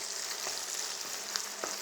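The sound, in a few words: ground beef sizzling in a pan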